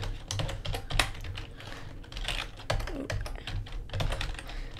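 Rapid, close clicking of a computer keyboard being typed on, in irregular bursts of keystrokes with short pauses, fairly quiet and alone without speech.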